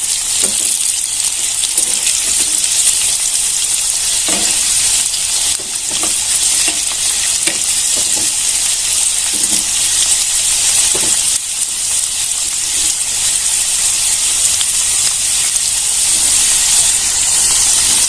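Slices of bitter gourd (karela) frying in hot oil make a loud, continuous hiss and sizzle with faint crackles, unbroken for the whole stretch.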